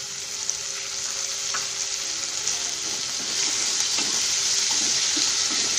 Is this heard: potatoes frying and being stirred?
yes